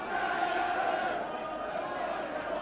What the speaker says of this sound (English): Fairly good crowd here today.